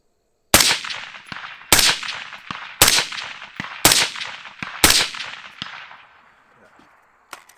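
Five loud, sharp AR-15 rifle shots fire at roughly one-second intervals, each with a long echoing decay across an open range, fading into quiet after the last report.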